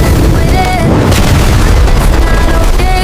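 A loud, sustained boom-like burst, like a gun firing in a comedy sketch, fills the whole moment with dense low rumble, and faint voices sit under it.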